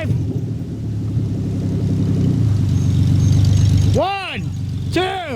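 The V6 engine of a truck in a tug-a-truck challenge against a V8 4x4 rumbles low and loud, building in strength before cutting off, followed by brief shouts and a whistle-like voice.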